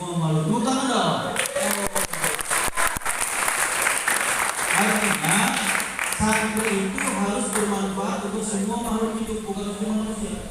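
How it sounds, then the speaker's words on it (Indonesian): Audience applause at a Ramadan morning religious study session at an Islamic boarding school, sustained dense clapping from a crowd, with a voice talking over it through amplification. "Tepuk tangan dong."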